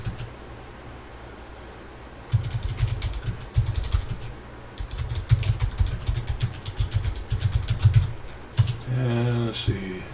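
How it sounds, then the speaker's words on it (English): Typing on a computer keyboard to write an email, a steady close patter of key clicks running for most of the stretch, with a brief pause, under faint room noise. "here's where I'm going to type what I want to say in the body of the email."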